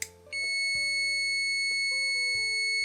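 A FNIRSI DST-210 handheld multimeter emits a steady electronic beep tone that starts just after a brief click and sustains for the rest of the clip, with faint clicks and shifting tones underneath.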